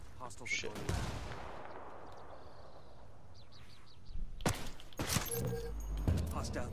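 Gunfire from Ghost Recon Wildlands, a military shooter video game, cracks in a couple of sharp bursts at the start and again near the end, with quieter ambient game sound and faint birds in between.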